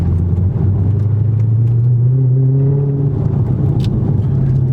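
A Dodge Charger Scat Pack with quicker first- and second-gear shift times accelerates, its loud, steady engine note climbing in pitch throughout, with no talking.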